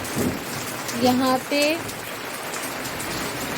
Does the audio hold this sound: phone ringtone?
no